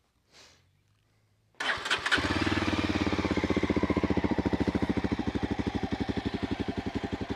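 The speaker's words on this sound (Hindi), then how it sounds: "एग्जॉस्ट की साउंड मैं आपको सुना देता हूँ।" A Yezdi motorcycle cranks after a brief quiet moment, catches, and settles into a steady, evenly pulsing exhaust idle that is close and clear.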